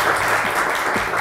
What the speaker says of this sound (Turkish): Alkışlar Serap Hanım için